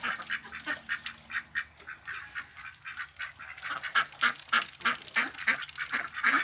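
A flock of free-range Yi Liang ducks quacks continuously, many overlapping honking calls close by, rising in intensity toward the end.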